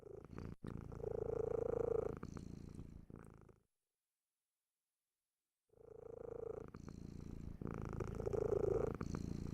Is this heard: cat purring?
yes